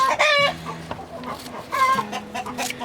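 Hens in a farmyard kept for egg laying cluck and squawk in short close bursts, with a few louder calls rising over a steady background of flock chatter.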